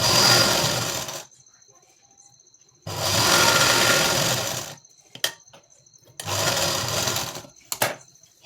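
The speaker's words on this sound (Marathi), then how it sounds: "हे बघा, आता मी दाबटीप देते." Sewing machine topstitching a four-tuck blouse with a 42-inch chest: three sustained runs of rapid mechanical stitching, close and loud, separated by pauses with brief clicks and handling noises.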